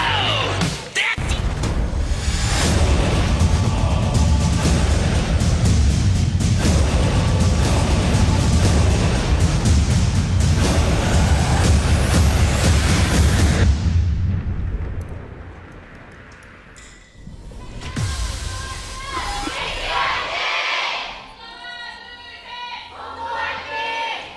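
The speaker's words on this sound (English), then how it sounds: "Cheers from both crowds as we get into our first game" Crowd cheering fills a League of Legends esports quarterfinal arena at the KeSPA Cup, a loud, sustained roar that fades midway, then returns with more crowd noise and commentator talk.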